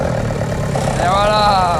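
A car engine under restoration coughs into life and settles into a rough idle, close and steady, while a person talks over it and a rising whine sweeps up near the end.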